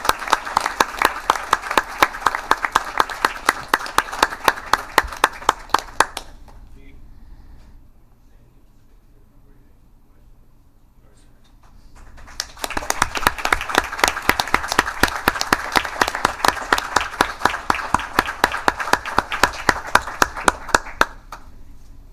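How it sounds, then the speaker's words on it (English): Audience applause at a regular city council meeting after remarks on policing: two sustained bursts of dense, close clapping split by a quiet pause of several seconds. "This is where you get the clap."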